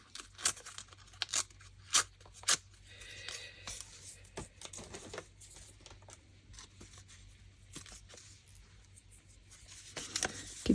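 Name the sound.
tearing paper for a junk journal ephemera folder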